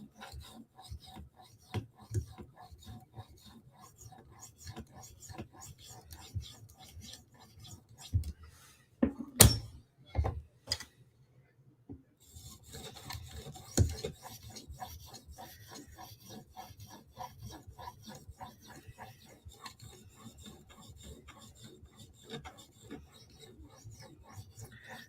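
Spyderco S30V steel knife edge stroked across a 2000-grit sharpening stone in repeated soft, rasping passes, with a few sharper knocks of handling midway and then quieter steady scraping.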